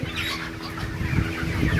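Broiler chickens in cages give low, soft clucks amid a busy rustling background, several birds murmuring close by in a short burst.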